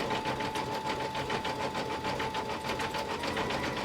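A sewing machine stitches a Kimberbell mini quilt in a steady, continuous run, its rapid needle chatter and motor hum close and even throughout with no talking.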